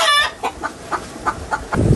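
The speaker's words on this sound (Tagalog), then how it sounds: "Ingay ng mga manok." Chickens cluck in a quick series of short, rhythmic clucks up close, opening with a louder squawk and ending in a low rumble.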